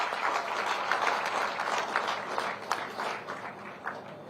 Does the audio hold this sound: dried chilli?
no